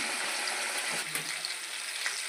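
Frying in a pan for chicken biryani produces a dense, continuous sizzle, close and steady, with a few faint stirring clicks mixed in.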